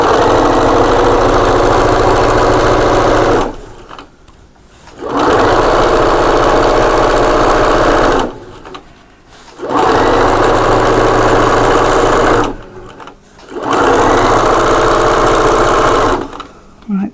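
A domestic sewing machine stipple-quilting a table runner runs in four steady, loud bursts of a few seconds each, separated by brief pauses, with close mechanical whirring and a low motor hum.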